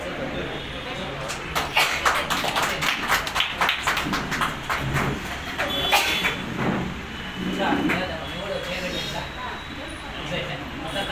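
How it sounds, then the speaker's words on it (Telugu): A crowd at a YSRTUC Formation Day rally in Madanapalle bursts into a dense run of sharp clapping that thins into scattered claps, with voices talking over it. "చప్పట్లు కొట్టాలి."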